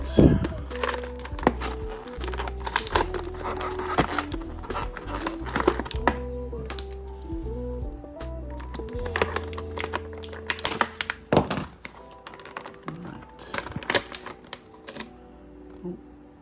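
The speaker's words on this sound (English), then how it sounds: "Alright, now I got her out of the box." Plastic clicking, tapping and crinkling as a Jada Toys Street Fighter II Cammy action figure is pulled from its packaging, busy close-up handling noises with some talking over them.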